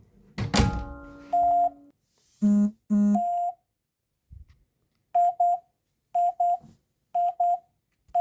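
A 2GIG home alarm panel sounds its exit delay, a series of short electronic beeps in pairs at a regular pace after a few louder tones and a thump, close and clear.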